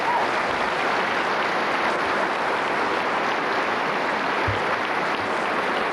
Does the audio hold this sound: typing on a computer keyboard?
no